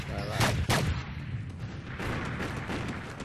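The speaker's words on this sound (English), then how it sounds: "I just hear sniper going off." Sniper rifle shots ring out in a video game: a couple of sharp, booming cracks close together early on, then ongoing rumbling gunfire and noise.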